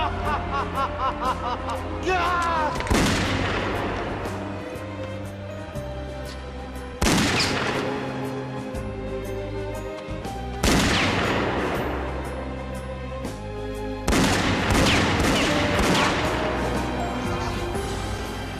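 Gunfire in a TVB Hong Kong action drama, Gun Metal Grey: four loud, sharp blasts spaced a few seconds apart, each ringing out with a long decaying tail over a steady dramatic music score.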